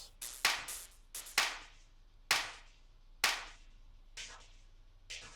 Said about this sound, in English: I think I got 2 claps.